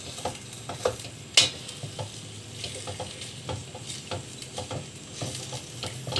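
Ground pork or beef giniling frying in a pan, a soft steady sizzle with intermittent stirring clicks and scrapes, close but moderate in level, no voices.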